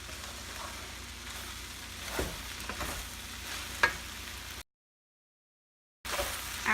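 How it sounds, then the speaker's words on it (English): Flat rice noodles with Chinese broccoli stir-fried in a pan give a steady, fairly faint sizzle with scraping stirs and a few clatters, then a short silent gap before the frying resumes. "we stir it about 2 to 3 minutes or until the noodle is truly heat up"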